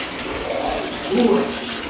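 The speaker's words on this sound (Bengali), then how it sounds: "এই যে বাথটাবে গরম জল ভরা হচ্ছে" Hot water runs into a bathtub with a steady, close rushing stream, and a brief voice is heard over it midway.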